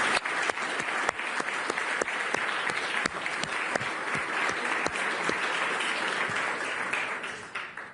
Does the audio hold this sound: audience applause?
yes